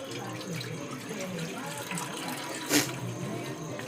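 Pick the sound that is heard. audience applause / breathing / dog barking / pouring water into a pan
pouring water into a pan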